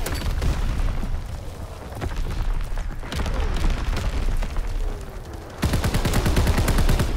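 Dense, continuous gunfire and booming explosions from a World War II shooter game, with rapid automatic bursts and heavy thuds layered over a constant loud battle rumble.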